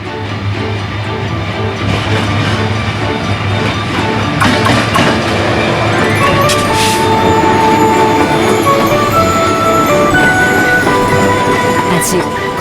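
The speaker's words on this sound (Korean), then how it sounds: "벌교역 승강장으로 기차가 천천히 들어옵니다" A Gyeongjeon Line train slowly pulls into Beolgyo station, a loud steady rumble with low droning and faint squeals and clanks from the wheels, while background music plays throughout.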